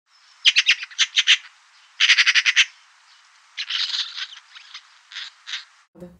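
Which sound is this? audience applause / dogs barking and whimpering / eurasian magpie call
eurasian magpie call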